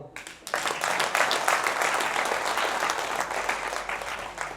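An audience at a Hindi-language public address bursts into applause after a brief pause, dense clapping rising quickly and holding steady for several seconds with no speech over it.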